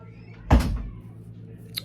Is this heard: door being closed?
yes